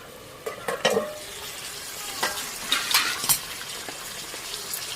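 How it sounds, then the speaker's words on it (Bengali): Spoon stirring spicy country chicken curry in a pan, scattered scraping clinks and soft sizzling in short bursts, close and moderately quiet, no talk. "ভালো করে নেড়ে দিলাম"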